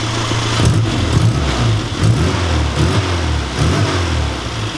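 A 1275cc Classic Mini Sprite engine, warm after a drive, with a lumpy idle broken by several short blips of the throttle, the low engine note rising briefly and settling back each time.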